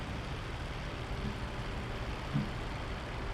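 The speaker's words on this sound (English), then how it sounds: "So cool that you can lean outside and you can hear this the air" Steady broadband rushing of air streaming past a helicopter in a flight simulator game, heard with the door open, a low engine rumble beneath and one small bump partway through.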